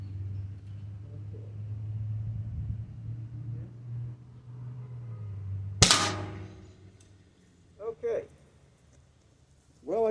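A Byrna less-lethal kinetic shotgun fires a single loud, sharp shot partway through, after a steady low rumble. A couple of brief, quieter clatters follow.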